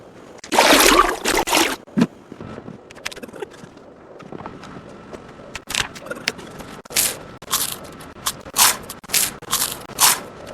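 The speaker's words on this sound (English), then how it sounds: "Those are some crunchy antibiotics." Crunchy chewing of antibiotics in a survival video game, Down Echo Creek Holler, as a burst of loud crisp bites up front, then a steady rhythmic series of sharp crunches and clicks, close and alone with no talk.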